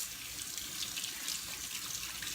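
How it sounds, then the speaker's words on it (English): Water runs steadily from a kitchen tap as hands are washed beneath it, a continuous close splashing hiss with no talk, during cooking prep. "let me wash my hands again."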